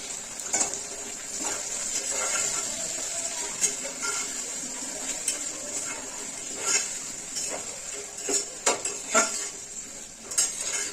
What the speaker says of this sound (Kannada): ಎರಡು ಟೊಮೊಟೊವನ್ನು ಹಾಕಿ ಅದನ್ನೆಲ್ಲ ಫ್ರೈ ಮಾಡಿ.